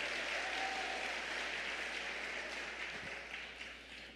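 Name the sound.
audience applause in church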